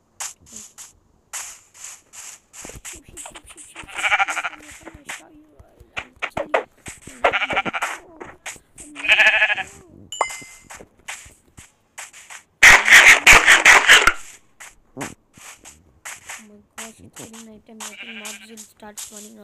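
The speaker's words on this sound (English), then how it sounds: "I need the sheep." Sheep in Minecraft bleat several times in short bursts, close and clear, interleaved with game sounds and footsteps, alongside a person talking.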